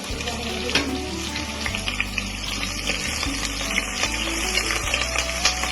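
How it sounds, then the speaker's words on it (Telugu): Onions, curry leaves and green chilies frying in hot oil for mutton dalcha, a dense, steady crackling sizzle that stays loud and close throughout, with a low hum underneath. "ఆనియన్స్, కర్రీ లీవ్స్, గ్రీన్ మిర్చి ఇవన్నీ ఆయిల్లో వేసుకోవాలి"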